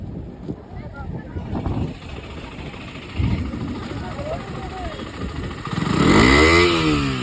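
A motorcycle engine idles and putters while warming up, then revs up loudly toward the end, with voices talking in the background at a crowded Ekvira Aai palanquin procession amid heavy traffic.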